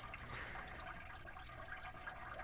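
Hot water poured onto ice around a neglected Case 1845 skid steer, a steady close splashing and trickling wash that runs unbroken for the whole stretch with no talk over it.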